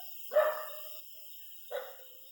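Dogs bark twice from a distance, two separate short barks spaced about a second and a half apart against a quiet outdoor background.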